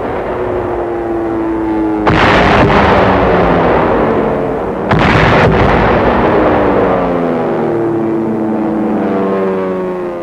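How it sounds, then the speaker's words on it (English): Two heavy bomb blasts from B-25 bombers in archival war footage of a raid on a fort in Mandalay, each a loud sudden roar rising over a steady droning engine rumble. "Coming in at low level, the B-25s blast holes in the walls, opening up the way for tanks and infantry."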